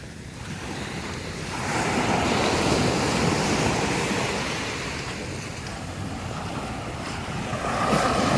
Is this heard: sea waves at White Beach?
yes